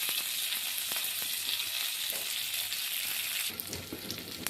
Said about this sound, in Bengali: অপর সাইডটা ভেজে নেব।